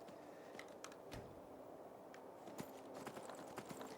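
A horse in The Elder Scrolls V: Skyrim clip-clops over rocky ground, with a string of sharp, uneven hoof strikes that grow denser toward the end over steady background game noise.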